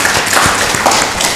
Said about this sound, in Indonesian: Tepuk tangan buat Pak Kiai gitu.